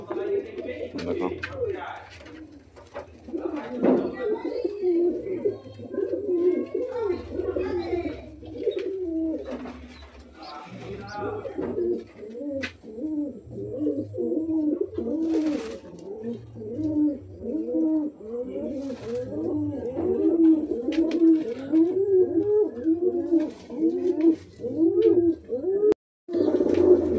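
A pair of black Lakka pigeons, heavy-booted birds in a loft, cooing in repeated rolling phrases, close and continuous, with someone talking over them throughout.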